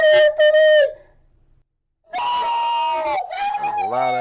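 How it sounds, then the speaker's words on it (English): Loud, shrill screaming comes in two bursts separated by a brief quiet gap, the second stretch long and strained, with the pitch wavering and dropping near the end. "That's a loud ass scream."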